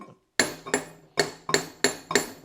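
Six sharp metallic taps of a small hammer on a Mercedes W126 front wheel hub, ringing briefly after each strike, in an uneven rhythm, close and loud.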